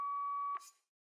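A single steady electronic phone tone from the video game Pro Philosopher 2 holds for about half a second, then cuts off with a short click and fades to silence.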